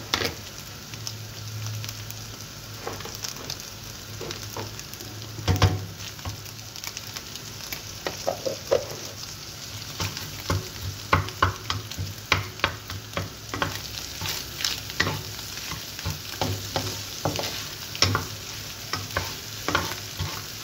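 Butter and rice frying in a pan for homemade fried rice, a continuous low sizzle punctuated by repeated clattering scrapes of a spatula stirring, close and steady for about twenty seconds with no talking.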